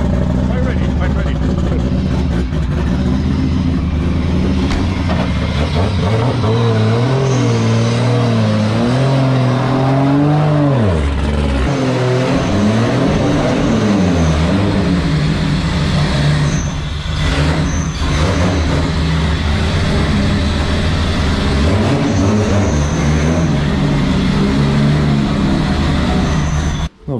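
A BMW E92 M3 fitted with a Toyota 2JZ engine runs on a dyno, its loud, close engine note climbing and falling through rev sweeps for the whole stretch, with people talking over it.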